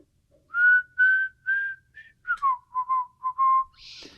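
A person whistles a short melody up close, a string of clear sustained notes followed by quicker lower ones, ending with a breathy hiss.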